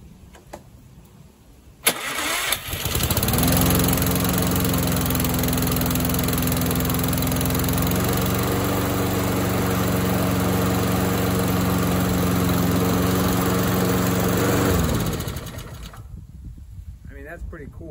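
A Lawn-Boy lawn mower engine catches after a sharp pull and runs at a steady, loud idle for about twelve seconds before cutting off, with the sputtering fade of the engine at the end.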